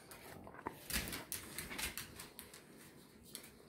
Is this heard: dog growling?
yes